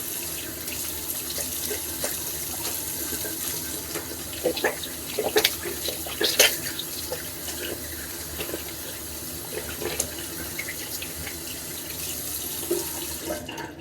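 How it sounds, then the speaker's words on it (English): Hands are washed with body wash under a running tap, the water pouring steadily into a sink for a long stretch with small splashes and rubbing noises up close. "I'm washing my hands with my body wash"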